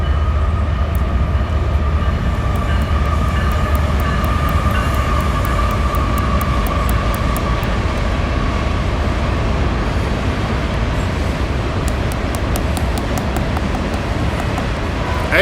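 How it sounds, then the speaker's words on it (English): A train passes near an outdoor park, a loud, steady rumble that fills the whole stretch with faint repeated metallic ticks and squeals riding on top, and no voices. "There's a train coming."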